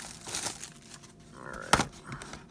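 Close crinkling and tearing of plastic as the wrapper on an Upper Deck hockey card blaster box is opened, a few rustles building to one sharp rip.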